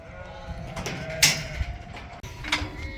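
Suffolk sheep and lambs bleat several times, a couple of loud nearby cries over a steady background of pen noise and faint shuffling.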